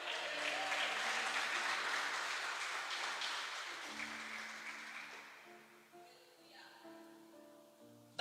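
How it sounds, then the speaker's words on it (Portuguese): A church congregation applauds, clapping strongly at first and then tapering away, as sustained keyboard or organ chords emerge and carry on alone near the end. "Aplaude ao Senhor aí."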